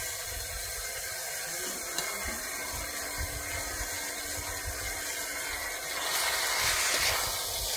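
Ground spice paste fries in a pan while making a Bengali pumpkin-leaf chorchori. A steady, close hiss holds throughout and swells louder toward the end, with no voices.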